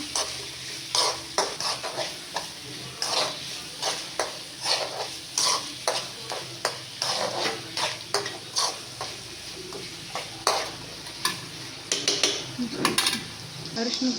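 Onions fry in a pan for chitranna gojju with a steady sizzle, while a spoon scrapes and stirs in regular strokes close by.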